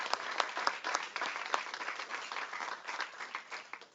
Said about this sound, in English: can we give these two contestants a huge round of applause